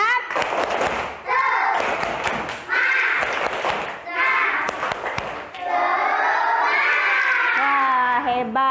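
Classroom of schoolchildren performing the rhythmic tepuk semangat clapping chant, bursts of hand claps and thumps alternating with loud shouted group chanting, ending in a long sung group call.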